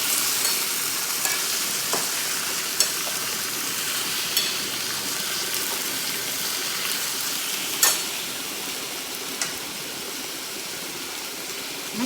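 Vegetables, okra among them, fry in oil as they are stirred, a continuous close sizzle with a few sharp spatula knocks against the pan at irregular intervals, with no talk.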